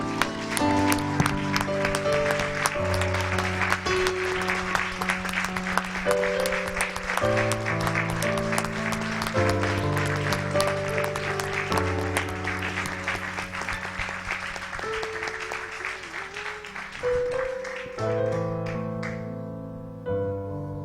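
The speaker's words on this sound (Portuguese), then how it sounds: "uma salva de palmas de todo o nosso coração" Church congregation clapping along to loud worship music, a sustained layer of applause blended with band and keyboard chords for about twenty seconds.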